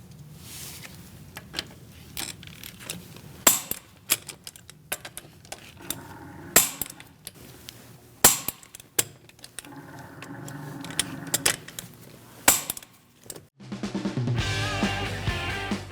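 Torque wrench with a 17mm socket tightening the wheel lug nuts on a 2000-2006 Mini Cooper to 95 foot-pounds, heard as a series of sharp, close clicks and ratchet taps spaced irregularly over quiet background, ending in a short burst of hiss.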